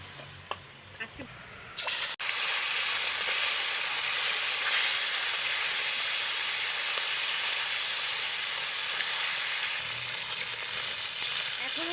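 Marinated fish drops into hot oil and bursts into a loud, hissing sizzle that starts abruptly after a couple of quiet seconds with small clinks, then holds steady and close for the rest.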